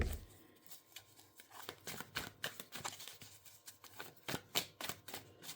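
A deck of cards is shuffled close up, with rapid riffling bursts and soft flutters repeating over several seconds, quiet and with no speech.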